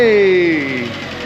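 Fiat 500 engine with a previously seized motor catching and running, a loud steady mechanical drone with a tone that slides downward as it settles.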